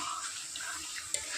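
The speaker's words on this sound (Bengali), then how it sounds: "এবার দিয়ে দেবো পরিমাণ মতো জল" Water poured into a pan of egg and potato curry, a short steady splashing pour heard close up with a brief sharp clink near the end and no talking.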